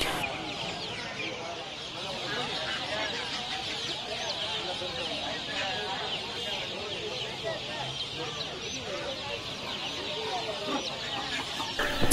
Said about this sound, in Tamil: நீங்கள் பார்க்குறது இப்போ என்னென்னு பார்த்தீங்கன்னா வந்து நாட்டுக்கோழி